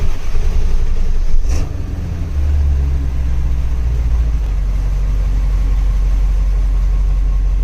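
A Ford E-350 Super Duty Power Stroke diesel van engine cranks and catches with a brief roar, then settles into a steady, low diesel idle that rumbles on loudly.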